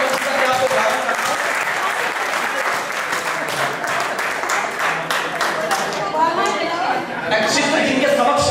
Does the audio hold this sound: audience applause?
yes